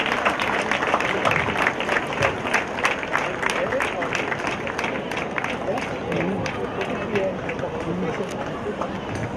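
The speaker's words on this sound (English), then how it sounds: "please give Sarvesh a big round of applause" A school crowd at an inter-house athletics meet claps steadily for a medal winner receiving his award, a dense sustained round of applause with scattered louder claps and faint crowd murmur beneath.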